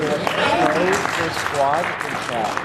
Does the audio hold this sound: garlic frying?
no